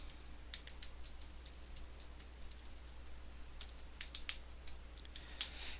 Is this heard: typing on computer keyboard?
yes